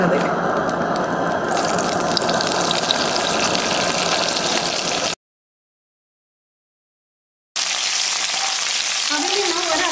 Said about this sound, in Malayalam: അതിലേക്ക് ഞാൻ ആദ്യം കുറച്ച് കറിവേപ്പിലയാണ് ചേർത്ത് കൊടുക്കുന്നത്.